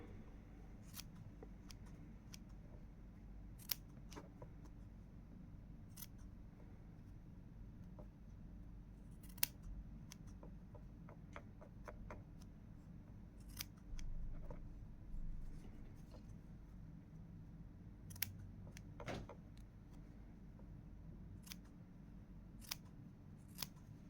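Small scissors snip crochet thread, scattered single cuts spaced several seconds apart against a quiet room, some sharp and some soft.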